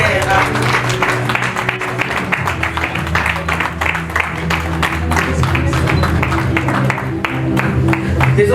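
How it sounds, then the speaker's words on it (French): An audience applauds at the Africa Golden Icons Awards ceremony in Morocco, a dense, steady wash of clapping that runs throughout over a sustained musical background, loud and continuous. "Des ovations encore, on ne s'arrête pas d'applaudir."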